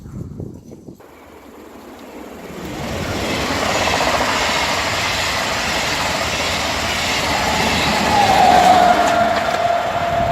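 A train rumbles past close by at Arnouville-lès-Gonesse, a loud, steady roar of wheels and carriages that swells after a quiet start and holds, with a high squeal near the end.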